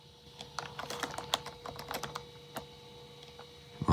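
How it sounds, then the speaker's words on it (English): Fingers typing on the keyboard of a vintage Apple PowerBook laptop, a close run of quick, uneven plastic key clicks in short bursts, ending with a louder thump at the very end. "I like typing on this keyboard."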